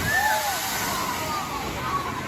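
Escape from Pompeii water ride at Busch Gardens Williamsburg: a boat splashes down with a loud, steady rush of water, and voices are audible through the sloshing.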